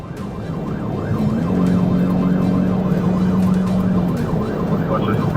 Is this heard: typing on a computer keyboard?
no